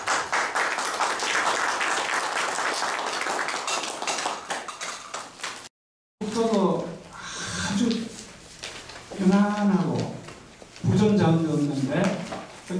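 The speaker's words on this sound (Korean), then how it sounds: "박수 한번 부탁드립니다" Audience applause at a founding ceremony and filial piety awards event, a dense burst of clapping for several seconds, followed by someone speaking after a short break.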